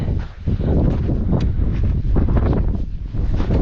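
Strong wind on a high mountain trail near 4600 m in Manang buffets the microphone in loud, continuous gusts, a deep roaring rumble with no voices.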